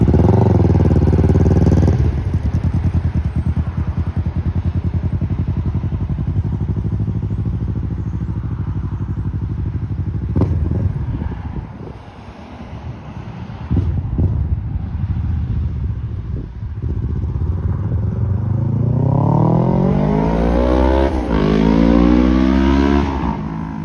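A very loud Kawasaki Ninja 650 exhaust with the baffle removed roars and revs, dropping to a rumbling idle midway before climbing again in hard, rising revs.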